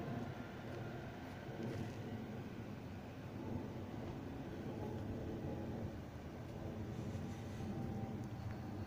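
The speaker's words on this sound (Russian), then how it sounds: "Двухэтажный поезд." A double-decker train rumbles steadily past Khimki railway station on a winter morning at close range, a continuous low roar with faint clanking, no voices.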